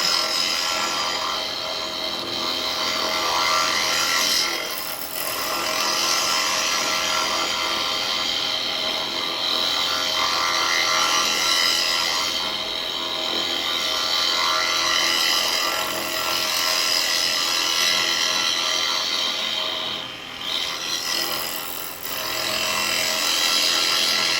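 Continuous steady scraping hiss of a woodturning chisel cutting a live-edge laburnum bowl spinning on a lathe, close and even throughout with slight dips in intensity.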